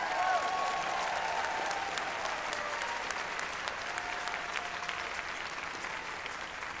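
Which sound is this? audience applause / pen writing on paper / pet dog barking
audience applause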